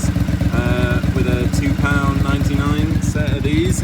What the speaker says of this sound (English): This is the sound of the exhaust in all her glory.